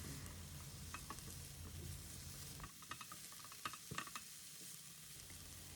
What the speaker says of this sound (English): Let's stir and mix the seasonings well with the veggies.